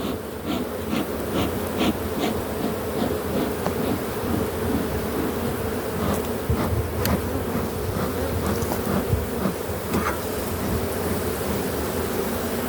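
Honeybees buzz thickly and continuously around an opened hive holding nectar, reserves and brood, with agitated bees striking close by in a steady, loud drone throughout.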